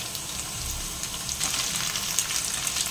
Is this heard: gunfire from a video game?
no